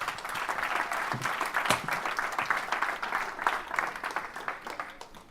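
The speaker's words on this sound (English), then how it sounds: "We can give her a round of applause." Sustained audience applause fills a magic-show hall at a London creativity event, dense steady clapping at even loudness throughout with a brief sharper burst near the middle.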